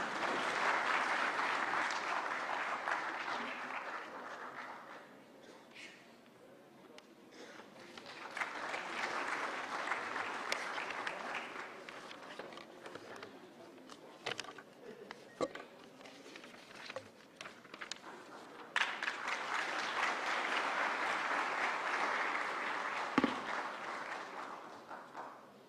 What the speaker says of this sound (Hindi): जोरदार तालियां देवियों और सज्जनों।